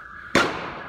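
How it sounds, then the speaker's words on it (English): A single sharp gunshot cracks out as police fire live ammunition at looters during riots in South Africa, loud and close, followed by a long fading echo over a steady background hum. "Right, police are firing as well. Seemingly, that is live ammunition."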